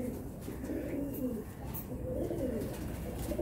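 A medium-sized pigeon held in the hand coos softly and steadily, close by, with a low murmuring call over faint background hiss.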